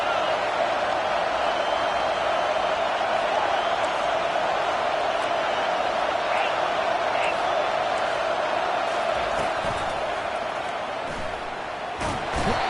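A football stadium crowd roars steadily behind the defense on a big third down late in a league game, a dense continuous wall of cheering with a few sharp shouts near the end.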